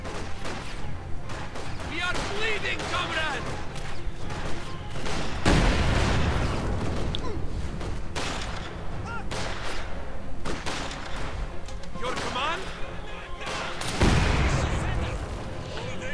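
Mortar fire and explosions ring out in a Company of Heroes match, with loud booms and rumbling blasts arriving at irregular intervals under steady commentary from a caster.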